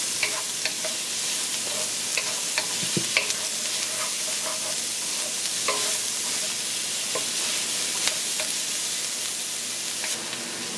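Aromatics frying in hot oil for curried lobster claws with shrimp and potatoes, a loud steady sizzle with occasional stirring clicks of a utensil against the pot, close and without talk.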